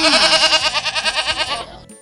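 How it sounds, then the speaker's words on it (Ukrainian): A goat bleats once in a long, loud, wavering cry with a rapid trembling quaver, close up, fading out at the end. "Коза."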